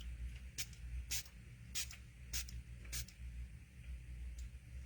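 Five quick hissing bursts from a spray bottle misting dried ink on a watercolor card, evenly spaced at roughly half-second intervals over a low room hum.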